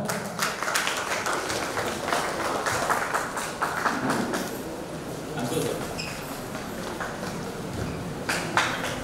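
Loud audience applause and clapping at an award show talent hunt in a resort, cheering a special performance; dense, sustained clapping fills the whole stretch without pause, with crowd noise mixed in.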